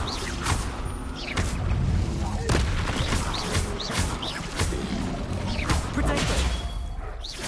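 Confringo blasting spells exploding in a Harry Potter game fight, a rapid series of sharp cracking blasts and crashes over continuous low rumble, with a voice talking underneath.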